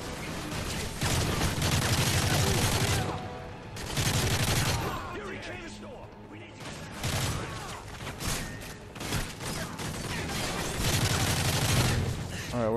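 Sustained bursts of automatic gunfire in the Modern Warfare 3 video game, loud and dense with short lulls, overlaid with scattered shots and voices talking.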